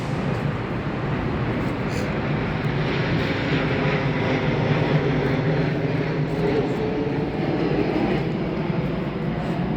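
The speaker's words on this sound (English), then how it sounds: "It's an airplane flying over." A broad, steady roar of an airplane passing overhead fills the whole stretch, constant and fairly loud outdoors with no clear rise or fade.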